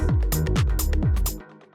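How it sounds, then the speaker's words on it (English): A short, tight hi-hat sample ticks crisply over a deep minimal house groove of thudding kicks and bass. The loop runs briefly and stops, leaving a fading low tail. "basically, you just want like kind of a smaller, tighter hi-hat like this."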